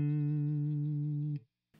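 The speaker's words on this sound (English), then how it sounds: "here's just the basic sound that I've got going with my Strat" A clean electric guitar tone from a Fender Stratocaster, a single sustained note ringing steadily and then abruptly cut off, followed by a short silence and a brief noisy burst.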